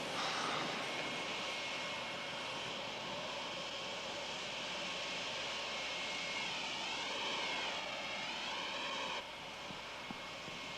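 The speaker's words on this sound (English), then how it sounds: "We've got to stop that jet." A jet airplane engine roars steadily and loudly, a broad sustained rush with a whining tone that sweeps and wavers partway through, with no talk over it.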